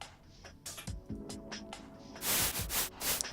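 Bursts of white noise generated by C++ audio code in a JUCE rhythm game, with sharp static hisses that start and stop in uneven pulses, then a louder, denser run of hiss toward the end.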